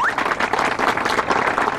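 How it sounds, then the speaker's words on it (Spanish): Audience at a stage show applauding themselves, a dense, steady wash of clapping from a full crowd, loud and continuous throughout. "Un aplauso para ustedes mismos."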